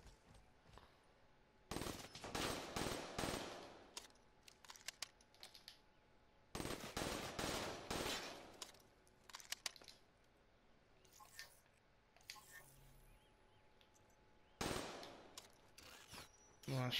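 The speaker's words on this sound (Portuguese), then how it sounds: "Acho que a M8 é minha arma preferida nesse jogo." Bursts of rapid automatic M8 rifle fire in a shooter video game come in several clusters of a second or more, crisp and close, separated by quieter stretches with faint clicks and mechanical handling sounds.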